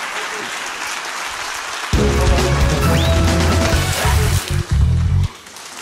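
Applause breaks out from a stand-up comedy club audience welcoming a comedian to the stage, a broad loud wash of clapping that surges in at about two seconds, stays dense, then drops off near the end.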